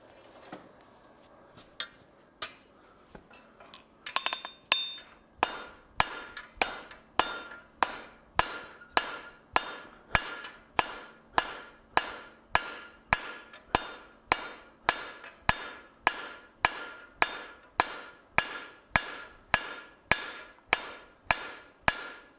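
A hammer forging hot metal on an anvil, striking in a steady, evenly spaced rhythm of loud ringing blows, about one every half second after a few scattered softer taps at the start.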